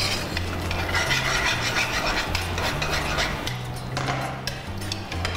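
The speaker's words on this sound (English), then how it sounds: "I'm just gonna whisk that up nicely" A whisk beats salad dressing seasoned with salt and black pepper in a bowl, making quick, rhythmic scraping strokes that stay close and fairly loud, with a faint low hum beneath.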